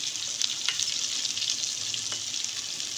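Okra (bhindi) fries in hot oil with a constant bright sizzle and crackle, a few sharper pops and stirring touches breaking through, close and alone without talk.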